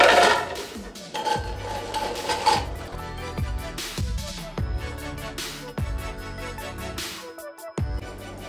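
Ice cubes go into a blender for a frozen cocktail. There is a series of clattering, rattling knocks as cubes tumble in and strike the jar, close and irregular, with no talk.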